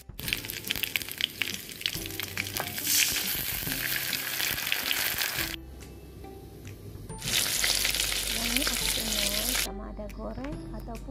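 Sauce for stuffed tofu sizzling in hot oil in a pan, a steady close crackling fry that pauses briefly twice and resumes, with light stirring and occasional clatter.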